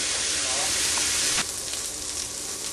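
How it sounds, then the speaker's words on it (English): Sausage browning in a pan gives off a steady, bright sizzle that sounds close and loud, easing slightly partway through, with faint talking beneath it. "Okay, so our sausage is browned now, and you want to get a little color on it"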